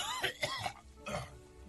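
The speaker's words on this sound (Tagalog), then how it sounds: "rinig na rinig ko yung ubo mo hanggang sa opisina ko" A person coughs in a few short, harsh bursts, close and fairly loud, with some throat clearing mixed in and no talking.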